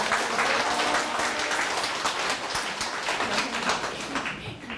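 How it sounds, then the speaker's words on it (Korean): An audience claps at a lecture given by an education office, dense steady applause that holds at an even level through the whole stretch. "박수 해주세요"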